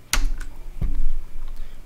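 Keys on a computer keyboard are pressed together for a Ctrl+Shift+F10 shortcut, giving two or three crisp, close clicks in quick succession.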